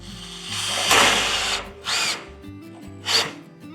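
A power drill whirs in three bursts, the first long and loud, then two shorter pulses, each rising and fading as the screw drives into wood close by.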